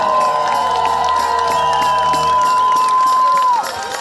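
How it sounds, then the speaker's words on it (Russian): An outdoor crowd at a half marathon festival stage in Birsk claps and cheers, with whoops and scattered shouts under a sustained tonal sound and music, loud and close, fading near the end. "Ваши аплодисменты!"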